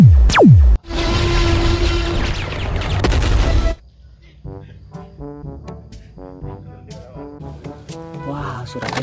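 Toy laser pistol sound effects: a loud descending electronic zap, then a sustained buzzing whine with rapid pulsing, followed by a quieter string of short chirping electronic tones near the listener.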